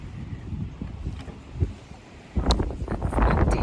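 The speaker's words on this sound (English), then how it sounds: "I'm sorry if it's windy." Gusty wind buffets the microphone on a beach by the water, a steady low roar that swells into a louder blast in the last second or so.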